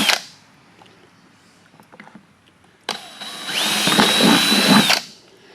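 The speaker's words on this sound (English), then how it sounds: "use that as a template to drill my holes in here" A power drill bores holes into a metal tool box bracket on a Kubota L3301 diesel tractor, a loud steady whirring grind running for about two seconds after some quiet handling clicks, then stopping abruptly.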